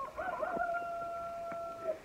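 A rooster crows once on a farm with chickens and turkeys, a clear drawn-out call lasting nearly two seconds, moderately distant against a quiet background.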